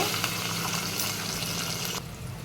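Green chillies, curry leaves and sliced onions frying in hot oil give off a steady, dense sizzle and crackle, close and unbroken, which thins out slightly near the end.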